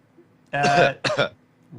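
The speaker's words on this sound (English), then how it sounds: "do you always cough right at the moments when I'm doing these?" Two short, harsh coughs close up, the first longer and the second clipped, with quiet room tone around them.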